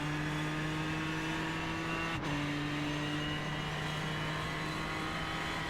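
A GTE race car in the iRacing sim, either the Ford GT or the Ferrari 488, is driven on throttle through the first chicane at Le Mans. Its engine drones steadily and loudly, with a brief break around a gear change.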